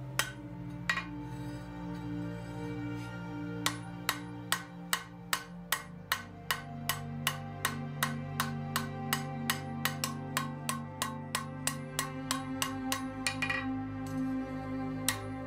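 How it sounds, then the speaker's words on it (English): Steady, evenly spaced hammer blows ring out from hot steel struck on an anvil while a spiral hook is forged and planished smooth at a lower heat, each sharp metallic clang close and loud over a low background hum. "Hammering at this lower heat will planish the surface of the metal and make it more smooth."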